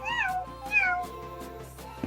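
A voice imitates a cat, giving two drawn-out, wavering meows close to the microphone, followed by a brief quieter sound.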